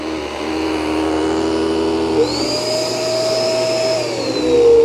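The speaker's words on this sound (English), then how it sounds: "So it really slows down that brush roller when I'm on hardwood floor, and then automatically goes to carpet mode." Shark smart vacuum cleaner running on a hardwood floor, a loud, close motor drone whose pitch rises and shifts midway as the brush roller changes speed, then sustains, with no speech.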